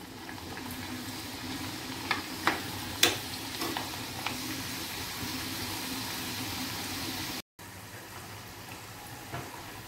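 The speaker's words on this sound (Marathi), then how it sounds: "पापड्या सुद्धा आपण फ्राय करून घेऊ." Papdi crisps frying in hot oil: a continuous crackling sizzle with a few sharp clinks of a spoon early on, a momentary cut, then the bubbling carries on alone.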